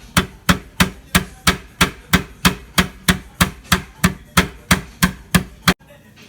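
Pimento seeds wrapped in a folded clean towel get pounded with a round buckle, about sixteen sharp, evenly spaced thuds in a steady rhythm, close and loud, ending in a brief quiet.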